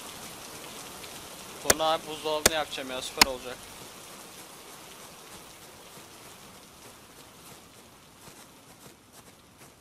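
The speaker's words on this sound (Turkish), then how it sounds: "Evet yağmur yine durdu" Rain in the survival video game Hurtworld makes a soft, steady patter under someone talking. A few sharp game sounds land near the start, then the hiss carries on quietly.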